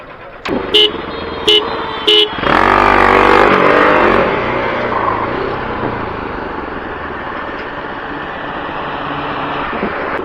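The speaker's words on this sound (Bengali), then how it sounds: "চলো বেশি কথা না বলে ছোট্ট করে একটা ড্র্যাগ রেস হয়ে যাক" Bajaj Pulsar RS 200 and NS 200 motorcycles, both BS3, launch into a drag race: a few short engine blips, then a loud surge of revving and acceleration that fades as the bikes pull away.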